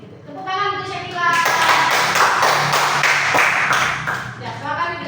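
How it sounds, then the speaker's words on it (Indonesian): Classroom audience of students clapping for a pupil named Syakila, a dense burst of handclaps over a voice, with talk before and after. "Tepuk tangan untuk Syakila"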